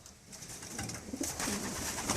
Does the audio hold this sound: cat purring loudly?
no